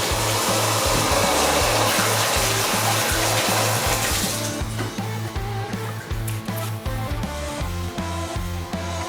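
Hot water runs hard from a tap into a sink in a motorcycle workshop, a steady loud rushing hiss with a low rhythmic pulsing underneath that eases slightly partway through.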